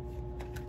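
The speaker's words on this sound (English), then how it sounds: "syempre, shuffle muna natin kung ano yung ibibigay ng cards" Tarot cards being shuffled by hand, a faint soft riffling with a couple of brief papery bursts over low background hum.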